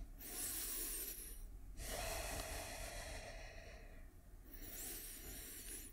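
Deep, slow breaths during a hip-opening yoga stretch: two long airy inhale-exhale cycles, close and soft, with no talk.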